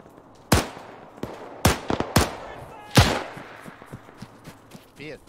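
Gunfire in the ARMA 3 game, several sharp cracks in an irregular burst with a couple of fainter pops between, close and loud against quiet background noise.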